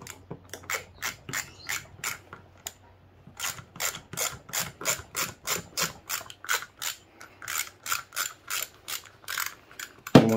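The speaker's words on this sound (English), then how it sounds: "Take the bolts out like so." Bolts being wrenched out of a metal strap holding a motor during scrap metal breakdown, a ratchet clicking in quick rhythmic bursts with brief pauses, close and clear, ending in a heavier clunk.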